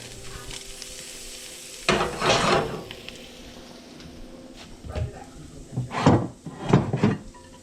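Butter melting with garlic and parsley in a pan with potatoes, heard as bursts of sizzling and stirring that swell and fade, with quieter stretches between and a cluster of louder sizzles near the end.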